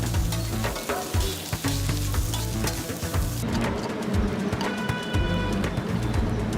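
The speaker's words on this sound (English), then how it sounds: "Grilling meat, veggies, and sausages all at once" Meat, vegetables and sausages grilling together at a street food stall, with a loud, steady sizzle and frying crackle, broken by scraping and stirring from the cook's tools.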